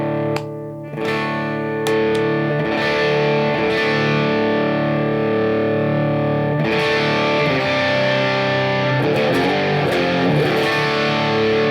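Electric guitar in drop D tuning played through an overdrive pedal, thick and gritty with sustained chords and ringing notes, loud and close.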